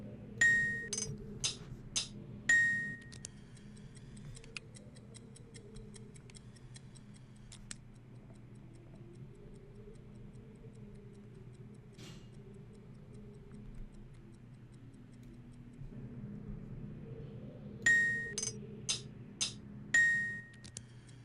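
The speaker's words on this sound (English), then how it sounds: "was it ticking for a long time there afterwards?" Ticking in the video game Riven plays as a faint, steady mechanical tick over a low ambient hum, with bursts of bright chiming clicks near the start and again near the end.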